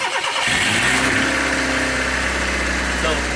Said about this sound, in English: Okay, I'm going to try to start the car.